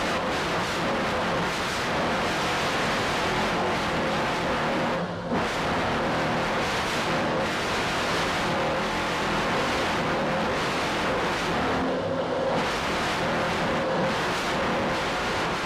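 A brand new 46-foot Skater racing powerboat roars at speed in a powerboat race, a loud, sustained engine drone that stays close and steady with brief dips in the wind and water rush, and no talking.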